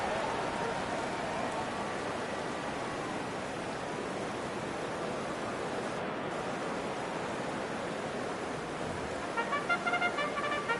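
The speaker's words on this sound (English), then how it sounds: "The rain set to continue as we are underway in the second half." Steady rain hiss fills a stadium during an NFL game in EA Sports Madden: a constant broadband wash with no breaks, with faint crowd ambience and a few tonal beeps near the end.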